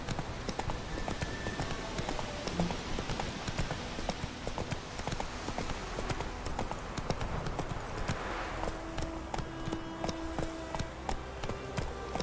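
Steady clip-clop of horse hoofbeats in The Witcher 2 game, a continuous trotting rhythm running throughout over ambient game background sound, with no talk.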